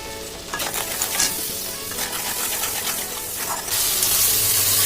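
Dried fish chorchori with egg, eggplant and potato sizzles and bubbles loudly in a pan just after a little water goes in, a dense continuous hiss with stirring scrapes that swells toward the end.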